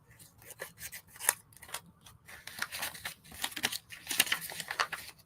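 Scissors snip repeatedly through paper for a collage, crisp close cuts in an uneven rhythm with soft paper rustling between them, no voices.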